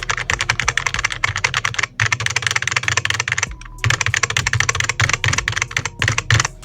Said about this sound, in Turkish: klavyenin tuş şeyi şöyle sesi